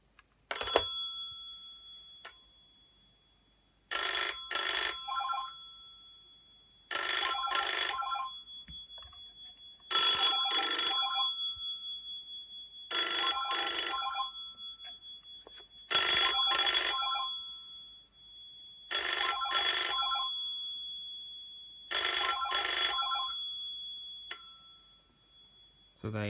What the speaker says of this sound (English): Here's what the ringer sounds like.